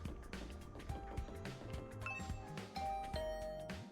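A doorbell rings with a ding-dong chime in a visual novel video game, heard as tonal chimes over busy background music.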